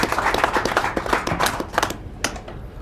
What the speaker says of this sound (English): Let's give Harley a round of applause in the 7th seat.